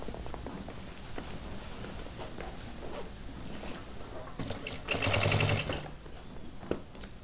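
A sewing machine stitches a children's backpack, its steady mechanical patter running throughout and swelling into a louder, denser burst near the end before easing back.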